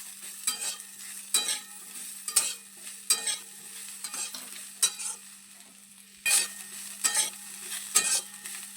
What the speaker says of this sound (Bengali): মশলাগুলো একটু সবজির সঙ্গে নেড়ে চেড়ে নেব।